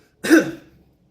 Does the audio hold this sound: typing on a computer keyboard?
no